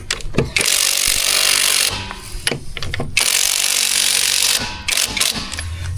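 An impact wrench works the lug nuts on a CFMOTO ZFORCE side-by-side wheel, firing in two long loud rattling bursts with brief pauses and a short third burst at the end, close and with no talking.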